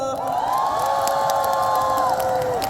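A concert crowd at a New Year show in Daegu cheers and whoops loudly and continuously, high excited voices, including shrill screams, rising and holding over a steady roar of the audience.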